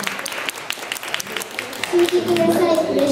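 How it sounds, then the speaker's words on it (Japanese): A crowd at a children's summit and year-end live concert claps in a dense round of applause, which carries on under a voice, and music and tones start to rise through it near the end. "大きな拍手を。"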